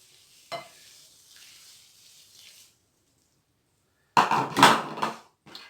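A spoon scraping and stirring a thick homemade soft food mix for goldfinches and canaries, in a few brief wet bursts near the end after a faint quiet stretch.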